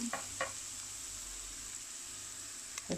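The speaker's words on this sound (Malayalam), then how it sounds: "ഇഞ്ചിയും വെളുത്തുള്ളി നന്നായിട്ട് മുരിഞ്ഞിട്ടുണ്ട്" Ginger and garlic fry in a pan with a steady, soft sizzle, broken by a few brief stirring scrapes at the start and end.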